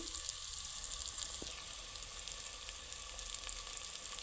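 Potato, tomato and onion curry cooking in a pan, a quiet, steady sizzle and crackle throughout with a faint tap or two, no voices.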